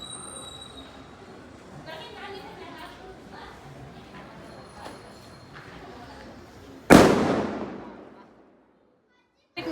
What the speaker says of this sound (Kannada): ನನ್ನ ಮಗ ಆಟ ಬಾಂಬ್ ಬಡ್ಡಿಸ್ತಾ ಇದ್ದಾನೆ